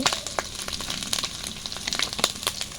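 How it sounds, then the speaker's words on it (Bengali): Ginger paste and cumin seeds fry in hot oil for a tempering, a close, continuous crackling sizzle with small pops and light stirring scrapes, no voices. "আমরা এখন সুন্দর করে বাগার দিয়ে নেব এর জন্য এখানে আমরা আদা বাটা দিয়ে দিলাম তো আমরা এখন জিরে দিয়ে দিব"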